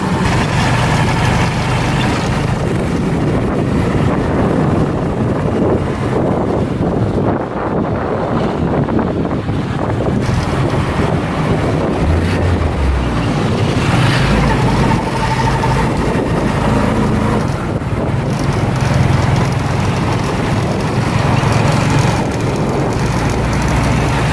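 A small motorized three-wheeler taxi carries riders through the streets of Mancora, Peru, its engine droning steadily and loudly for the whole ride under heavy wind rush, with no talk.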